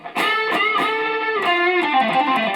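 A sustained, gritty electric guitar through a distortion pedal and Marshall amp plays a short melodic lead phrase with bending notes, loud and up front.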